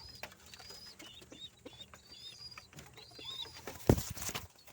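Pigeons cooing softly while being handled and counted, with scattered chirpy calls, light rustling, and a sudden loud burst of wing flapping or handling noise near the end.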